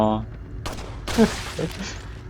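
Gunfire in Resident Evil 4 Separate Ways, a few sharp loud shots in quick succession close by, mixed with game noise and someone talking.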